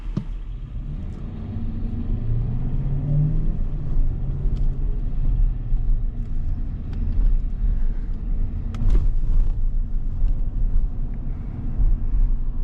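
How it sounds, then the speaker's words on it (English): A GMC Sierra SLT pickup truck driving along, its steady low engine rumble and road noise continuous and fairly loud throughout, with no talking. "Okay, this truck is finally moving"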